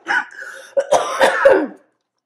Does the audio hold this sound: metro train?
no